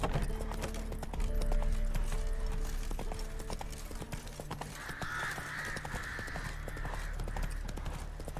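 Galloping hooves of the horse Roach in The Witcher 3, rapid rhythmic clip-clop with game ambience and a bird cawing in the background.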